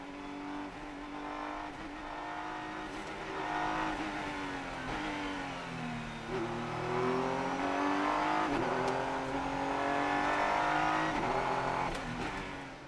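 Racing cars lapping the Nürburgring during the 24-hour race in the wet, engines revving hard and shifting through gears as they pass at a distance, with a continuous layered roar and no talking.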